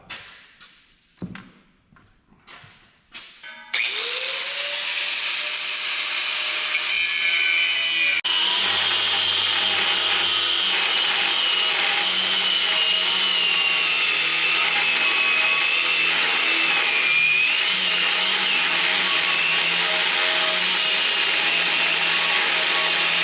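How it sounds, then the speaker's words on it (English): Angle grinder cutting into the metal of a Tucker Sno-Cat snow vehicle, a few faint knocks and then a loud, steady high-pitched whine that runs on without a break, with no talk over it. "Can't get in there with the grinder."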